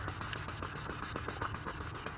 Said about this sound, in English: sand this scuff out a little bit. Some 1500, which is a little slow going.